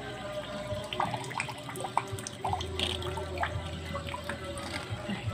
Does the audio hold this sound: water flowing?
yes